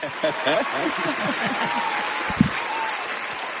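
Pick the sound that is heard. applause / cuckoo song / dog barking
applause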